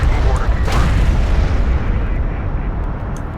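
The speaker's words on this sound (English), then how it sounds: "Enemy airstrike inbound." Airstrike explosions rumble in the real-time strategy video game Deserts of Kharak, a loud continuous barrage of deep booms with no pause between them.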